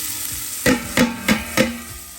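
Onions go into rendered fat for Portuguese caldo verde soup: four sharp, evenly spaced knocks of a utensil against the pan sound over a low, quiet sizzle.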